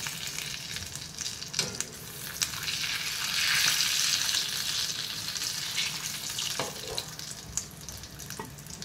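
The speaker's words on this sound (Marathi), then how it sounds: "तर हे माझे वडे भाजलेले आहेत." Kolhapuri vada fritters frying in hot oil, a steady close sizzle with a louder bubbling swell midway, plus faint clinks as they are turned.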